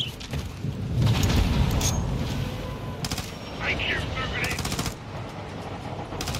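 Machine gun fire during a gunfight in the Modern Warfare 2 campaign, with sustained rattling bursts and repeated shots over a dense battle din, moderately loud and continuous.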